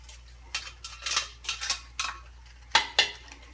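Noodles being stirred in a cooking pot for baked ziti, giving a run of short scraping and clinking strokes spaced out in an uneven rhythm. The strokes are close and moderately loud, with two sharper knocks near the end and no talking.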